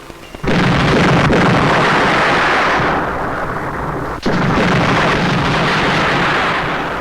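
A film bomb explosion booms loud and sustained, a heavy roaring blast with rumbling tail, briefly dipping then surging again with a second sharp crack, no talking over it.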